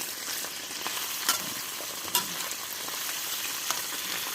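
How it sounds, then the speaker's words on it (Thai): Crab deep-frying in hot oil gives off a steady, close sizzle and crackle with a few sharper pops, with no talking. "ปูนี่เราทอดอย่างเดียวครับ จะ หอม ๆ นะครับนี่ครับ"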